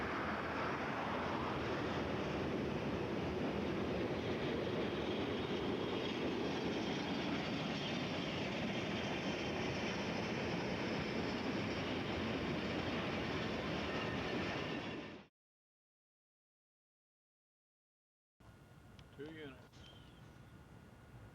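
A Southern Pacific diesel locomotive train rumbles past close by with a loud, broad roar that cuts off abruptly, followed by quieter background sounds.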